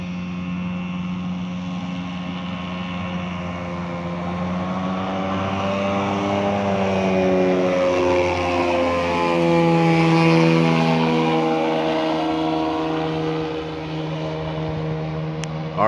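Rans S12 light aircraft in flight, its engine droning loudly and steadily throughout with rising and falling pitch as the throttle is held and adjusted, no talking.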